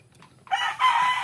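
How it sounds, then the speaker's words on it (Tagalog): A rooster lets out a loud, sustained crow close by, rising after a brief quiet start. "Ito na yung mga manok natin."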